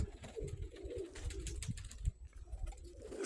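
Pigeons cooing at dusk as they fly home to the loft, faint low coos mixed with light fluttering and shuffling close by, quiet overall.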